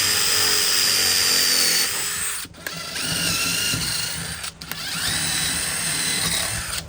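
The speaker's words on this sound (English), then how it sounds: "Just putting holes in this one now." A power drill bores holes into a plastic 5-gallon bucket, whining steadily in two long bursts broken by short pauses, close and loud with no talking.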